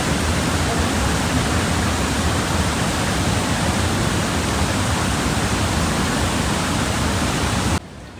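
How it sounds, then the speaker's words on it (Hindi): Floodwater in the Tirthan valley, Kullu, rushes over a bridge as a loud, unbroken roar of churning water that holds steady throughout, then drops away abruptly at the very end. "पुल के ऊपर से पानी, ये देखो"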